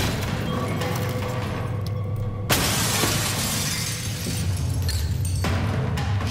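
Glass shatters with a sudden loud crash after a chair is thrown in the underwater facility of the game Soma, followed by a sustained bright spray of debris and rumbling low ambience, alone with no talk.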